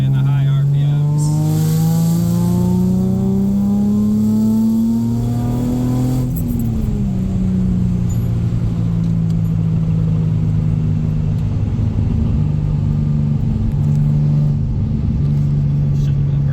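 A Nissan Z engine fitted with an Injen cold air intake revs steadily and loudly from inside the car, with a droning note that climbs, then eases and holds. Mild intake roar rides over it, and a voice talks briefly.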